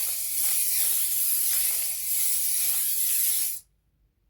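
A steady body spray aerosol hisses for about three and a half seconds, close and continuous, then cuts off abruptly into silence.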